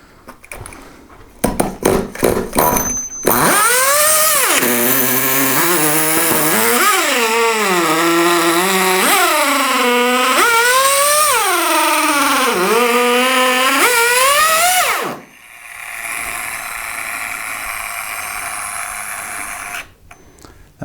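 A budget nitro RC truck engine pulled over a few times, then catching and screaming at high revs, wavering up and down loudly for about twelve seconds before cutting out abruptly, leaving quiet.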